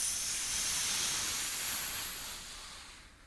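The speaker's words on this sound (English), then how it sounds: "then we can do the forceful breath out of our nostrils" A forceful breath blown out hard through the nostrils makes a long, steady, airy hiss up close that slowly fades away over about three seconds.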